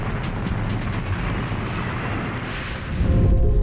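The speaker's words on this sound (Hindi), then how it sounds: "और फिर होता है एक जोरदार धमाका।" A deep, roaring blast from a Beechcraft aircraft crash in Gujarat rumbles continuously, swelling louder near the end with heavy low-end force and no voices.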